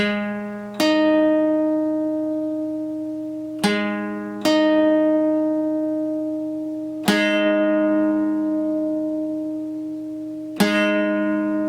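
Two sustained tones sounding together a perfect fifth apart, struck four times with ringing decays, clean and alone.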